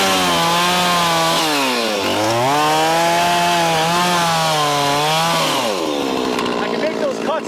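Chainsaw cutting through wood in a woodpile, a loud close engine whine that rises and dips with load through a long cut, then eases off near the end.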